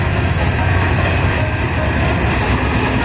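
Haor Express passenger train pulling in at a Bangladeshi station after its run from Mymensingh and Mohanganj: a loud, steady rumble of rolling railcars with squealing wheels throughout, and no voices.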